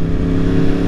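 A 2020 Yamaha R1 sport motorcycle fitted with an Austin Racing GP1R exhaust holds a steady, deep, throbbing idle close by, loud and unbroken, with no voices.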